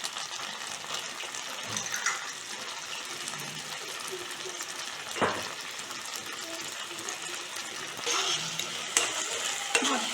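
Manchurian sauce with tomato ketchup, chilli sauce and vinegar sizzles and fries in a pan on high flame while being stirred, a steady broad hiss with scraping strokes, close and loud, with a brief voice in the background.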